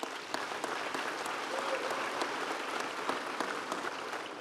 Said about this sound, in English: Yes, please, big round of applause.